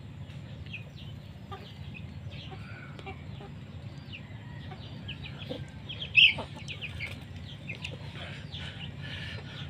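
Backyard chickens and a rooster cluck at feeding time, with scattered soft clucks and calls throughout and one louder, sharper call near the middle over a low outdoor background.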